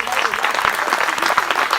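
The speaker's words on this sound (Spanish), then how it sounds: "Dale un aplauso para Cristo." A church congregation claps together during a sermon, dense and steady, with a voice speaking over the applause throughout.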